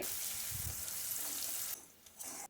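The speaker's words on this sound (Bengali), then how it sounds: "পেঁয়াজটা খুব ভালো করে ভেজে নিতে হবে" Chopped onion and green chilies fry in hot oil: a faint, steady bright hiss and sizzle carries on for a couple of seconds, then drops away quickly with a brief flare at the end.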